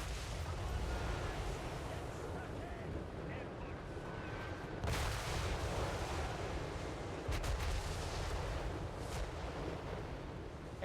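Artillery firing in the video game Total War Warhammer 3, a dense continuous rumble of booming cannon blasts and explosions with sharper cracks, heavy and sustained.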